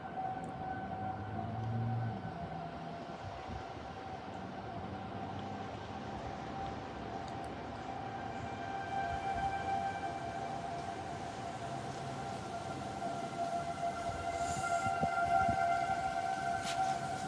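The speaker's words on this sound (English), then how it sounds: "The tornado sirens are still going off." Tornado sirens wail from a distance during a thunderstorm, a sustained, faint tone that lingers over rumbling wind and rain noise and swells slightly toward the end.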